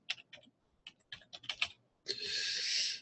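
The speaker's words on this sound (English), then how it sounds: "I'm typing Hebrew" Quick bursts of keyboard typing, a run of sharp clicks in uneven rhythm, then a longer steady hiss-like clatter at the end; close and quiet.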